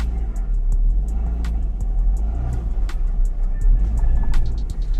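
A stock car with worn power steering out on a test drive gives a continuous engine rumble and road noise from inside the cabin, steady and fairly loud, with faint clicks and rattles on top.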